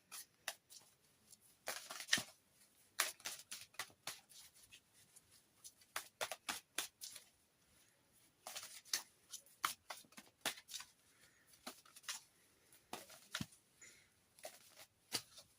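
Forest of Enchantment tarot cards are shuffled and drawn by hand, giving soft, quick riffling and snapping flicks in uneven bursts, close and quiet with no speech.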